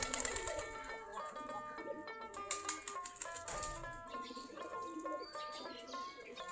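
Native Giribaz pigeons from a flock of around forty pairs coo and chirp while feeding on wheat and drinking, a busy layered chorus of birds mixed with light pecking and faint human voices nearby.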